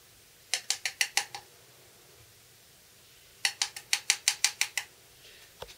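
Spoons clink against containers while two-part epoxy is measured and mixed, in two quick rhythmic runs of about half a dozen bright taps each, close and fairly quiet, with one last faint tap.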